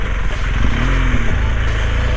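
A heavy motorcycle engine labors through deep mud on a jungle trail in Costa Rica's Barbilla National Park, loud and close, with a steady throbbing drone and a brief rev swelling in the middle.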